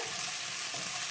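Green chilies sizzling in a hot pan while being stirred for poha, a steady close frying hiss lasting about a second.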